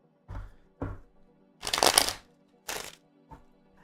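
Quick papery riffles of tarot cards being shuffled: two short flicks, a longer crackling shuffle, then a couple of brief snaps, close and quiet.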